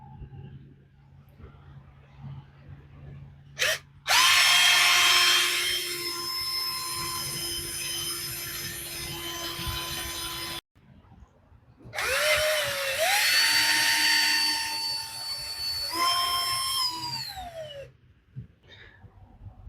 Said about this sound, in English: This one is a paddle bit. You'll notice it shows it's a 1/2-inch size, so it'll make a 1/2-inch hole.